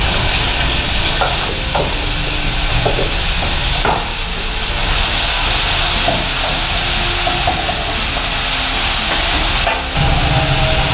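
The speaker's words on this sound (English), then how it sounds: "We add our oil and also add onion." Chopped onion frying in hot oil in a pan for a kimchi con carne, a loud, dense, continuous sizzle and crackle heard up close throughout.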